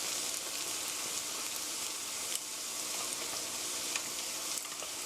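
Churros fry in hot oil as they are rolled over, giving a loud, dense, continuous bubbling sizzle with small crackles and faint clicks from the turning.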